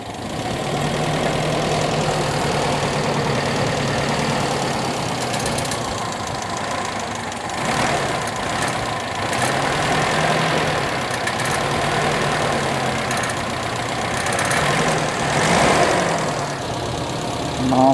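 Toyota Kijang engine fitted with independent ignition idles steadily and continuously up close, a low rumbling mechanical drone with slight knocking texture and small surges in level throughout.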